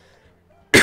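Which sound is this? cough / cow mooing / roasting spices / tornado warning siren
cough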